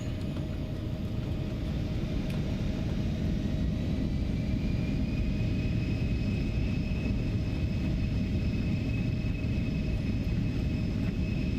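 Embraer E175 engines roar through a takeoff run in the X-Plane 12 flight simulator, a steady, deep rumble with a faint rising whine above it, continuous throughout.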